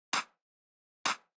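Two short, tight electronic claps processed with effects hit alone with a pause between them, each crisp and punchy with a quick decay.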